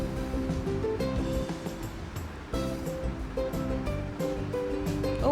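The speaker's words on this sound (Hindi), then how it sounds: "हवा कितनी तेज़ आ रही है यहाँ पे।" Strong wind gusts across a house rooftop in a loud, continuous rushing roar that swells and dips, with a brief drop midway and no talk.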